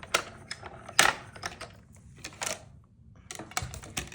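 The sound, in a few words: mini cut and emboss machine running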